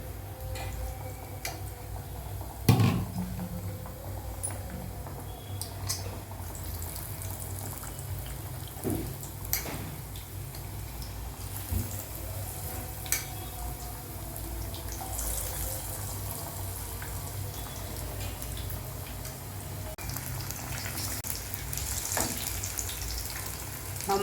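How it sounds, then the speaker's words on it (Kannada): Banana stem fritters deep fry in hot oil on a low flame, giving a steady, dense sizzle and crackle that continues evenly throughout, with occasional small pops and clicks nearby. "ಹೊಂಬಣ್ಣ ಬರೋವರೆಗೂ ಇದು ಕರಿಬೇಕು."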